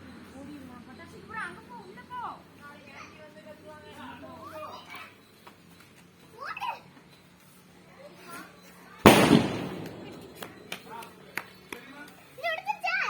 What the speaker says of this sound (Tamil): பட்டர்ஃப்ளைஸ் அது ஓவரா வெடிக்கும். கீழே வச்சே வெடிங்க.